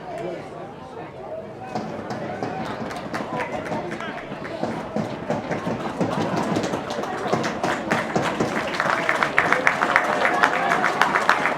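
A rugby crowd at an Oldham versus Orrell match applauds a player reaching his 300th career appearance. The warm clapping builds steadily and grows louder toward the end, while a commentator talks over it.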